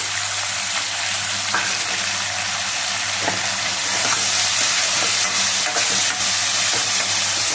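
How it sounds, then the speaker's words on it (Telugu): Onions and tomatoes fry in a pan for a fish curry, making a loud, steady sizzle with faint stirring scrapes throughout and no talk. "onions యాగాలి onions వేగేయండి tomatoes వేసేసుకుంటున్నాం tomatoes"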